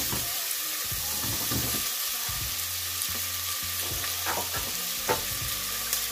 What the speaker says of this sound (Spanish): Y hacemos un sofrito de todo esto.